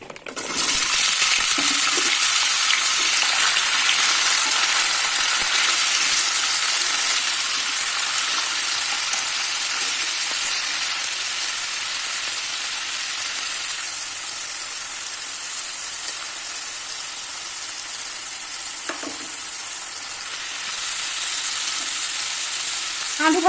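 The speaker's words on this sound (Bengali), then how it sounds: "তেলটা গরম হয়ে গেছে। এবার আলুগুলোকে দিয়ে ভেজে নেব।" Potato pieces frying in hot oil in a Bengali home kitchen: a loud, continuous sizzle and crackle with occasional stirring scrapes, sustained for over twenty seconds with no voices.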